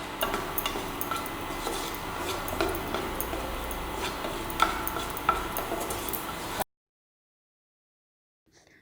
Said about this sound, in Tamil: இதோட ஒரு பச்சை மிளகாய் போட்டு நல்லா வதக்குங்க.